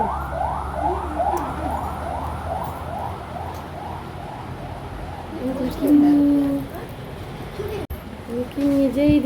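An ambulance siren wails in a steady rising-and-falling pattern, then fades as it passes into the distance, followed by nearby voices and background noise.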